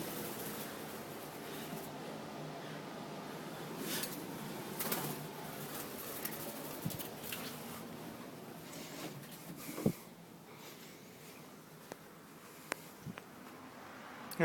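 A pigeon or dove coos indoors, soft, low and fairly faint, with a few brief sharper knocks and flutters over a steady room hiss.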